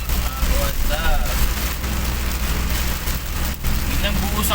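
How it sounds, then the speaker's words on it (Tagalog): Heavy rain pounds steadily on a vehicle during a Lalamove delivery drive, a dense continuous roar with an engine rumbling underneath and a voice speaking over it. "Super lakas ng ulan."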